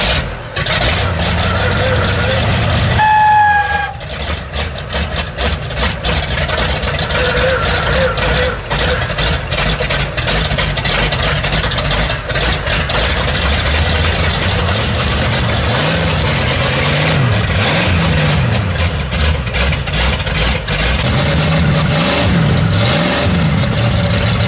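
A low-budget car fitted with a big horsepower motor, running loud and close with repeated revving swells over a rough idle, a brief chirp near the start, voices talking over it.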